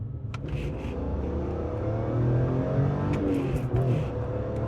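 A BMW M3 E46 engine revs loudly and steadily, its pitch rising and falling in continuous surges close by, with no talking.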